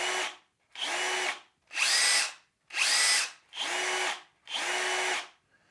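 A Bosch GSR 12V-35 FC cordless drill motor is run in six short, loud bursts, each a high whine that ramps up and down, with brief silences in between.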